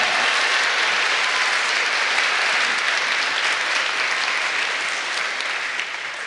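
An audience at a live author talk applauding, a dense sustained round of clapping close up that tapers slightly toward the end.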